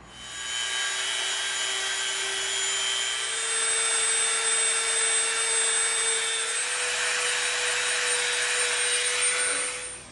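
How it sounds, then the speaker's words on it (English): A Dremel rotary tool whines steadily and loudly at close range while cleaning contact cement residue off the seams of an EVA foam neuralyzer prop, its pitch shifting slightly as it bears down, with no talking. "now what we're gonna do too is we're gonna bring our Dremel in"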